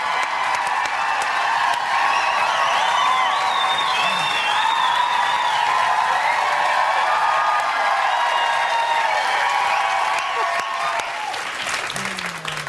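Sustained applause from a large studio audience at an improv comedy show, loud and steady throughout, with some scattered cheering mixed in before it tapers slightly at the end.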